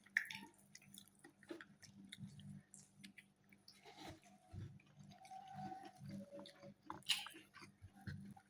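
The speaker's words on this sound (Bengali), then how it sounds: "আর একটু খাই।" Someone chews homemade Bangladeshi-style beef biryani, with soft, wet, squishy mastication sounds repeating close to the mic against a quiet background.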